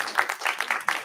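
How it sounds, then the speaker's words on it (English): A small audience gathered for a service gives a brief burst of applause, with scattered, uneven hand claps close by and no voices over it. "Give yourselves a round of applause."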